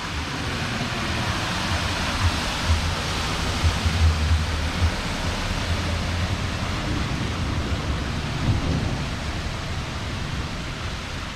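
Heavy rain pounding down during a severe evening thunderstorm in Southeast Michigan, a dense continuous roar of water with low rumbling underneath, no voices.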